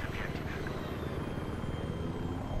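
Helicopter rotor chopping and turbine whine in Battlefield 3 on the Riverside map, a steady, fairly faint thumping drone of an approaching attack helicopter amid game ambience.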